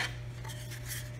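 A storage drive tray slides out of a Lenovo ThinkCentre M710s small form factor desktop, a brief close scraping rub of plastic and metal with no voices.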